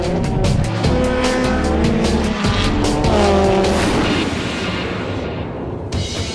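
A Formula Ford open-wheel race car at Phillip Island locks its brakes and slides sideways, tires squealing loudly over the close, high-revving engine roar, which fades toward the end.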